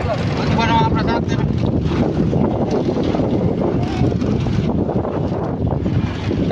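Strong wind at sea roars continuously over a fishing boat during a multi-day trip, a loud, unbroken rush with engine-like rumble underneath for the whole stretch.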